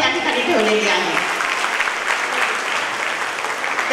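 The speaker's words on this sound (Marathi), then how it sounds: "आपण वेगळ्या टाळ्या का वाजवायच्या" An audience at a gathering claps loudly and steadily for several seconds, dense applause filling the room with a few voices mixed in.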